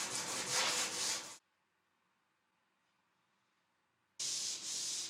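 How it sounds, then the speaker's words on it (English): Steady hand sanding on a wooden dining table extension, a soft rough rubbing that stops for a few seconds of near silence, then resumes. "I did a final sanding by hand,"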